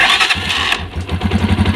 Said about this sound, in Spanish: Y ahora le volvemos a dar marcha.